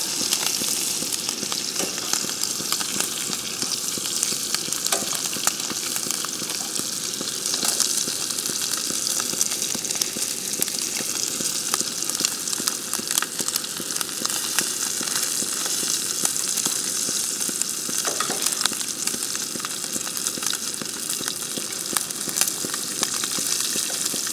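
A ribeye steak sizzles in a pan on a camp stove as it is reverse seared, turned and basted. The loud, steady frying hiss runs unbroken throughout with faint clinks and no talking.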